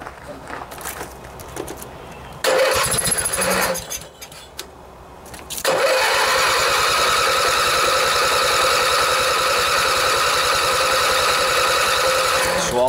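A Briggs and Stratton opposing twin cylinder engine, choke closed after a carburetor rebuild, sputters and bursts briefly, drops back, then catches and runs steadily at a loud, close, even rapid firing rhythm for the remaining seconds.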